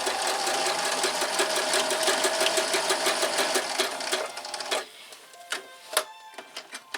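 A sewing machine stitches a Santa's helper costume in a fast, steady mechanical whir for several seconds, then stops and gives a few sparse clicks and single stitches, up close and with no talking.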